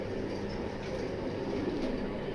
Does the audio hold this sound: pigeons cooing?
yes